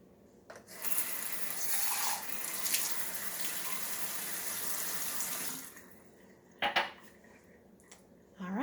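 Water being carefully poured off soaking heirloom tomato seeds in a kitchen, a steady close trickle and splash lasting several seconds, followed by a few light clinks of dishes.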